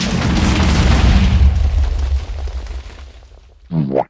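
An AK-47 in a Minecraft mod fired at a building, heard as a loud, booming explosive roar that slowly fades away, followed by a short vocal sound right at the end.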